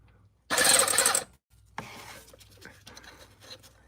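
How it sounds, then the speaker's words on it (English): A ratchet wrench on a 2007–2010 BMW M6 breaks loose the rear transmission bolts under the car, giving a loud, close burst of ratcheting. A shorter, quieter stretch of clicking follows after a brief pause. "I'm just gonna break the bolts loose for now"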